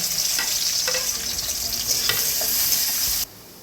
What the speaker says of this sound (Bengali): পেঁয়াজ কুচোনোটা দিয়ে দেবো।